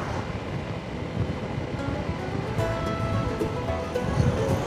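Strong wind buffets the microphone in a continuous rushing roar while riding a Honda ADV 160 motorcycle, with a low engine rumble underneath and no voices.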